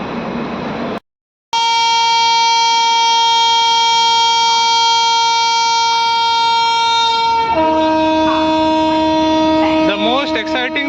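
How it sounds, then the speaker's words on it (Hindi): Close and very loud, a WAP 7 electric locomotive hauling the Madgaon Hapa Express on the Konkan Railway sounds its horn in the rain: a short blast, a brief gap, then a long sustained multi-tone blare that shifts pitch near the end. "Most exciting part of a वैप 7 is always it's horn."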